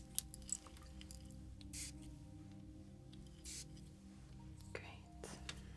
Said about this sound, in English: I'm just going to spray here.